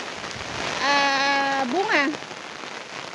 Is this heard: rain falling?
yes